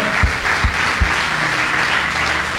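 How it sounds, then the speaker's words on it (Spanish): A church congregation applauds the word of the Lord during a Spanish-language sermon, a steady dense wash of clapping with a few heavy low thumps near the start, sustained throughout. "Denle un aplauso a la palabra del Señor"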